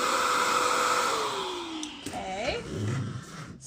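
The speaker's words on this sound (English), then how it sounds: "This is the shop vac sound." Shop vac running with a loud, steady whine that slowly drops in pitch as it winds down, followed by a person talking near the end.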